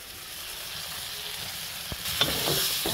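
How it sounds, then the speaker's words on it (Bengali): Turmeric-coated tilapia pieces go into spices frying in oil, with a soft steady sizzle, a single knock, then a louder burst of frying as the fish hits the pan. "আমি এক এক করে মাছগুলো দিয়ে দিব।"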